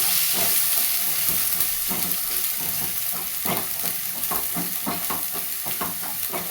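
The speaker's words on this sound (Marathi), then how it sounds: "हे गरम मसाला हे धना जिरा पावडर हे हळद हे चवी मीठ सगळं एकत्र परतून घेते" Garam masala, coriander-cumin powder, turmeric and salt sautéing together in a pan for a brinjal dish, with a steady close sizzle and repeated scraping strokes of a spatula and no talking.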